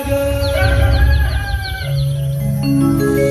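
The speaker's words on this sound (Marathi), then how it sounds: "कोंबड्याची बांग" A rooster crows in a loud, close, drawn-out call with a clucking fowl nearby, sounding over a music backing of steady tones from a traditional Marathi devotional song performance.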